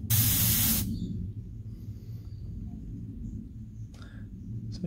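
An aerosol can sprays livery green paint onto fishing lures in one short, close, loud hissing burst, then falls to a quiet background with a faint brief noise near the end.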